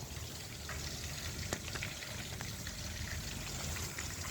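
Chilli chicken pieces frying in hot oil, with a continuous, close bubbling sizzle and one brief sharp click partway through.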